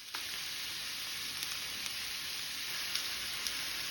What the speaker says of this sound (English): Fry them 1 or 2 minutes